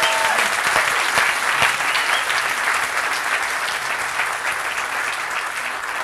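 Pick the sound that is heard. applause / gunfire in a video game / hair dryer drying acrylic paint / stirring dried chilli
applause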